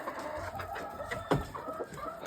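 Hens during a hard winter make soft, irregular clucks and short calls at close range, with no voices over them.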